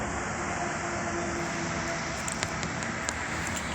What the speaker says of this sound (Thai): เครื่องบินลายสวยมากของงจิโร่